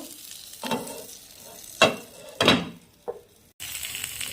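Egg and eggplant fry in a pan, with a soft sizzle broken by several close clanks and scrapes as the pieces are turned, ending in a steady sizzle.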